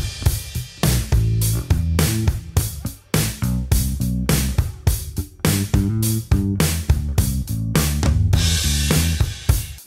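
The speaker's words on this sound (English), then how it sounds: "They are based around a Logic drummer track and a bass line that" Programmed Logic drummer track with a bass line backing background music: punchy kick and snare hits in a steady groove under a repeating melodic bass pattern, clean and upfront with no voices.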